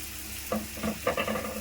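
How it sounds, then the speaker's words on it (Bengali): Ginger-garlic paste, chopped tomato and ground spices sauté in a pan, with a close, even sizzle broken by several scraping stirs of a spatula; no one speaks. "এবার মশলাটা ভালো করে কষিয়ে নেব।"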